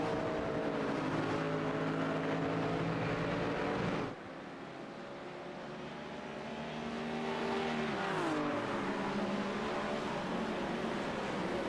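A BMW race car in a 24-hour endurance race at Zolder drives into a corner, its loud engine note droning steadily, dipping briefly as it lifts off, then rising again and shifting pitch through the turn, with other cars audible nearby.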